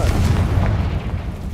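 A Confringo blasting spell bursts in Hogwarts Legacy, a loud, deep, rumbling boom that holds for the whole moment and then slowly fades, with no voice over it.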